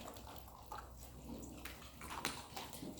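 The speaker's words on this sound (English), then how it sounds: "Then go ahead and pour on the Paula's Orange." Paula's Orange liqueur is poured into a cocktail glass over ice, giving a soft, continuous splashing trickle with small clinks. It sits under steady room noise in a presentation setting.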